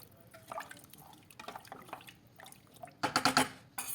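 Chicken stew broth boils in a pot on the stove, giving off irregular wet pops and bubbling plinks that come in a quick, louder cluster toward the end, with nobody speaking.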